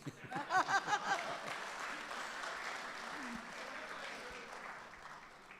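An audience at a poetry recital applauds an Urdu couplet, a short burst of clapping after the poet's recited line, then fading into quieter room sound as he speaks again.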